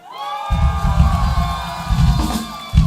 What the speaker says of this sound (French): Merci encore d'être là, applaudissez-vous.